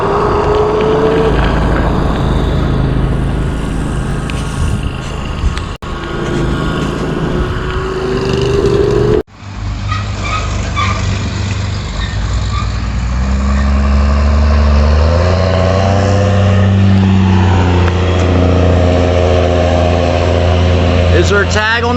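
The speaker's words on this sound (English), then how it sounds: "There he goes up the road in a tractor with no tag." A farm tractor drives up the road in front of a house, its engine a steady low rumble at moderate distance that grows heavier toward the end, with someone talking over it throughout.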